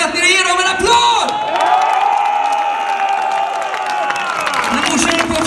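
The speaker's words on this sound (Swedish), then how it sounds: "så jag vill att ni ger dem en applåd!" Crowd at a metal festival pre-party show cheering and whooping loudly, with sustained shouted voices rising and falling over several seconds and scattered clapping underneath.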